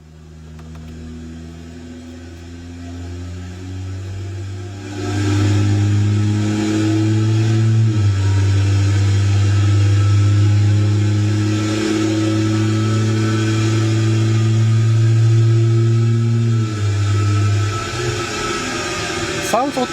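A car engine with a tuned, loud exhaust idles low, then revs up hard into a sustained drone. Its pitch steps up and down through shifts that sound automatic, close and loud, with people talking over it.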